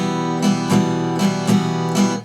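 An acoustic guitar strummed down-up in a swung rhythm, five clear strums with a lilting, uneven spacing, ringing and close with no voices over it.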